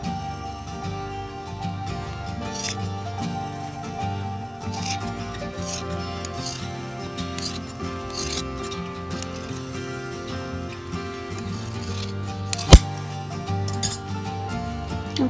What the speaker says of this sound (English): So now we just need to cut out the opening in the bed.